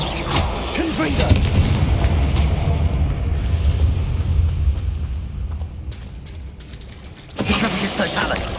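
A booming fiery blast from the Confringo spell in the Hogwarts Legacy game, a loud rumbling explosion that swells then fades over several seconds before a second burst near the end.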